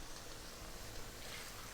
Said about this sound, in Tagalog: At mag-a-add na po tayo ng tubig